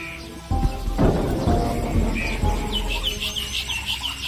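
Cartoon chickens clucking, a few brief clucks and chirps over a soft, busy background.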